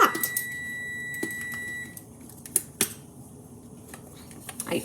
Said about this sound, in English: oh, and I hear my timer.